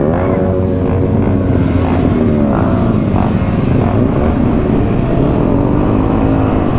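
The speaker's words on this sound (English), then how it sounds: "Your bike sounds so nice." A 2021 Yamaha YZF-R125 motorcycle engine drones loudly and close while riding, a steady high-revving buzz whose pitch shifts gently up and down as the throttle changes, heard alone with no talking.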